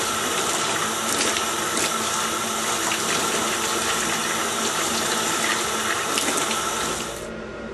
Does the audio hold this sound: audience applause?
no